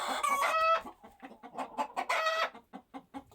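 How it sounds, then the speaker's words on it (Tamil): A cartoon hen clucks in a rapid run of short, close, pecking notes, broken twice by loud drawn-out squawks, in a children's farm tale set in open fields. "ஒரு நாள் அந்த கோழி வயல்வெளிகளில் மேய்ந்து திரிந்து கொண்டிருந்தது."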